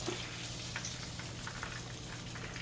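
Pork chops frying in oil, a faint, steady crackling sizzle with scattered small pops, with no voices.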